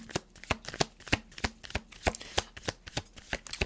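Tarot cards are shuffled close up in a steady rhythm of crisp papery slaps, roughly three per second, moderately soft and with no voices.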